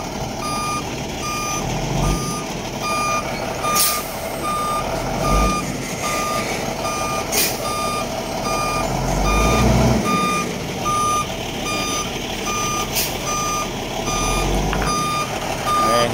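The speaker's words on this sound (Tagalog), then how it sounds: "Atras yung aking trainee driver." A truck backing up with a trainee at the wheel, its reversing alarm beeping in a steady, evenly spaced series over a constant low engine rumble.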